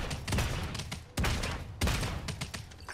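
Rapid gunfire in the video game Realm Royale rattles as a dense, loud burst, broken by two sharp louder shots and continuing without pause.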